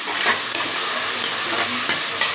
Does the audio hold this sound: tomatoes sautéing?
yes